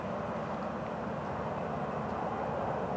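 Florida East Coast Railway train 105 rumbling past on a windy evening in East Central Florida, a steady low roar of wheels and engine noise that holds level throughout with no voices.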